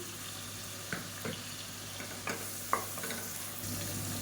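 Onion, garlic cloves and green chillies fry in a pan with a soft, continuous sizzle, broken by several quiet scraping stirs of a spoon, all faint and without any talk.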